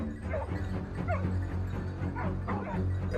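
Hunting dogs out on a snowy boar hunt near a forest give several short yips and barks with a whimpering edge. The barking is moderately distant and repeats against a steady low outdoor rumble.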